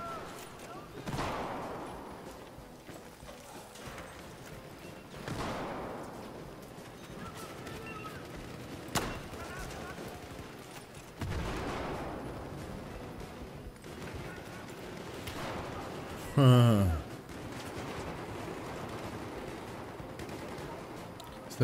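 Battlefield 4 multiplayer on the Metro map: repeated bursts of heavy gunfire and booming explosions roll through, mostly at mid-distance and fairly muted, with one sharper, louder blast near the end and a player's voice talking over the combat.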